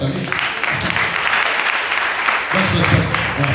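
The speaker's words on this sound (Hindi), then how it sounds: "जी जी बजा सकते हैं आप ताली।" Audience applause at a Hindi church sermon, a sustained wash of many hands clapping that swells louder near the end, with the preacher's voice briefly audible underneath.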